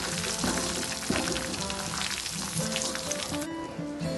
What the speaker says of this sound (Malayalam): ഇതിലേക്ക് തന്നെ ഞാൻ ഉള്ളി വാട്ടാൻ വേണ്ടിയിട്ട് ഇടുന്നുണ്ട്.